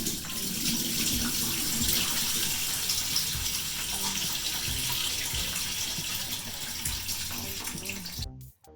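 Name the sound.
tap water running to refill pickle jars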